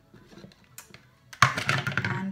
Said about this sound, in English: just unscrew your lid